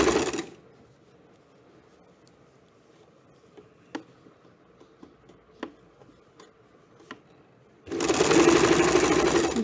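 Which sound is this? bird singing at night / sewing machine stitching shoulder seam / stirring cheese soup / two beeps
sewing machine stitching shoulder seam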